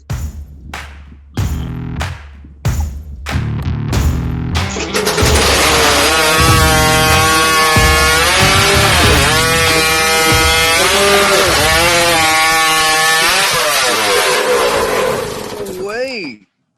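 A hot saw, a motorized racing saw, bites through a wooden log in a timed competition, loud and steady with a rising engine scream. Short revving bursts come before the sustained cut, and an announcer's voice can be heard at times.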